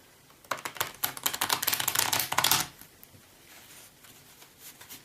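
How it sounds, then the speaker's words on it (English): Tarot cards shuffled by hand in a quick burst of crisp riffling clicks lasting about two seconds, close and fairly quiet, then a few faint rustles. "Let's shuffle the cards."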